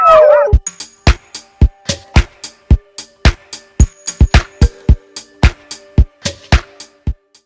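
A pack of sled dogs barking and yipping in rapid, loud bursts, with a high whining howl at the start, close by and without talk, in Tromsø, Norway.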